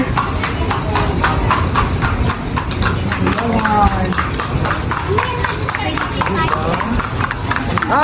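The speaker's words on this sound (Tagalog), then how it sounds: "ang mga kabayo kay murag slide man na sila" Horse hooves clip-clop in a quick, regular rhythm on a brick street in a historic city, loud and near, with people talking over the steady clatter.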